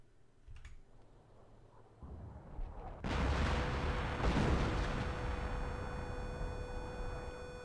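A bomb explodes in a video game, a sudden loud, deep blast that then lingers as a sustained, rumbling roar with ringing tones, following a quieter stretch of faint background clicks.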